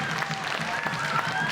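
A football stadium crowd at a women's A-League match between Brisbane Roar and Western Sydney Wanderers murmurs and cheers steadily at an attacking run, a broad, continuous roar with scattered applause beneath a commentator's voice.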